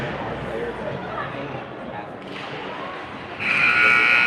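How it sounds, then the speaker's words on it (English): A loud, sustained electronic buzzer sounds at the end of a period in a youth ice hockey tournament game at a San Diego rink, cutting in over crowd chatter and arena noise. "And there's the buzzer"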